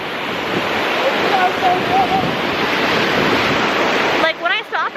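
Sea waves washing onto a sandy beach as a steady, broad wash of surf, close and continuous, with some wind noise and a voice speaking briefly near the end.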